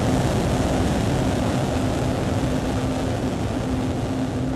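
SpaceX Starship rocket engines throttle up in a steady, dense roar with a constant low hum. The sound stays loud and unbroken throughout, with no voices.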